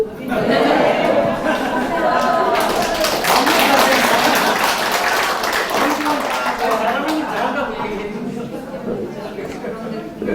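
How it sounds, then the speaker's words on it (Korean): Applause and scattered clapping rise from a forum audience at Korea's 5th National Management Forum, a broad, mid-distance wash of hands with chuckles and chatter, then easing off toward the end. "이 모임은 좀 박수가 약간 해픈 모임입니다"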